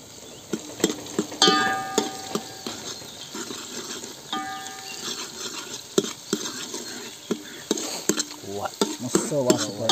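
Onions and curry leaves sizzle and fry in a pan for misal, with a steady crackle under repeated clinks and scrapes of a spoon stirring against the metal.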